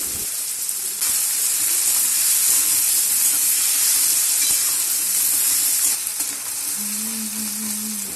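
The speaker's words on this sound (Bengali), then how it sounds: "পেঁয়াজটা এখন আমি ভাজা ভাজা করব" Onions frying in a pan for prawn malai curry give a loud, continuous sizzle with steady hiss and occasional stirring scrapes, close by and alone.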